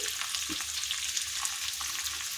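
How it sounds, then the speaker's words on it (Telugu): Okra pieces frying in a pan for a bendakaya pachadi give a steady, fairly quiet sizzle, a dense crackling hiss with small pops scattered through it and no voices. "ఇవి కొంచెం వేగాలండి ఒక రెండు నిమిషాల పాటు రెండు నిమిషాలు వేగాలి"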